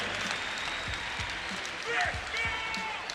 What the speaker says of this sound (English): let's have a round of applause for our co-main event here this evening